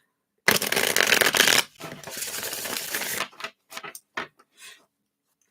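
Tarot cards shuffled by hand during a reading, a dense riffling burst followed by a softer stretch of shuffling, then a few short scattered card snaps and taps, close and alone.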